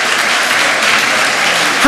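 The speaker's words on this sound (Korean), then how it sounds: "박수 쳐드려야 될 것 같아요" Brief burst of audience applause at a Catholic gifts seminar in a prayer house, loud dense clapping from a room of attendees holding steady for under two seconds.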